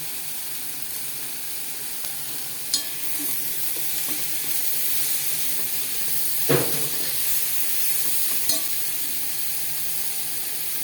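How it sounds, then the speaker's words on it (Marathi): Chopped tomato hits a hot pan while dried shrimp (sukat) cooks with pink-fried onion in a grandmother-style tawa dish, giving a steady hiss of sizzling with a few sharp clacks and spoon scrapes, no talk. "तो कापून ठेवला होता एक टोमॅटो तो टाकून घेतो"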